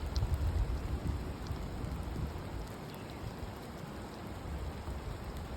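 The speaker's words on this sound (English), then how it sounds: "I walked around in the rain" Outdoor rain: a steady broadband hiss of falling rain with scattered drops striking surfaces close by, continuous throughout with no voices.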